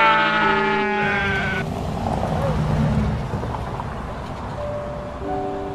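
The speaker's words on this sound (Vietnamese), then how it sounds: "Đàn cừu của ta ngày càng lớn, vụ này chắc sẽ thu hoạch lớn đây." Sheep bleat in an animated folk-tale cartoon set on a countryside farm, several loud, close, wavering cries over a steady background bed of sound.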